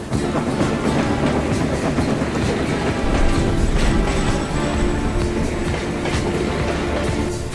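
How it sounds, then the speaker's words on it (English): A cartoon steam engine from a Thomas and Friends story rolls in with steady clickety-clack and rumbling, loud and continuous throughout. "Train's coming."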